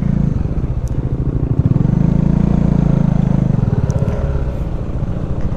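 A motorcycle engine labours along a rough, muddy road with a heap of fill, a loud, close, throbbing low putter that rises and holds before easing, with faint clatter over it.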